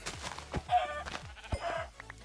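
Sheep in the video game Minecraft bleat in short, quiet calls mixed with soft scattered game sounds.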